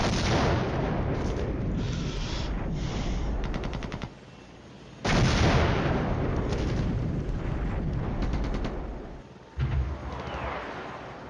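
Artillery and gunfire in the Cold War strategy video game Flashpoint Campaigns: Cold War, loud dense barrages of booming blasts and crackling fire, broken by a sudden drop near four seconds and sharp renewed bursts, with no talk.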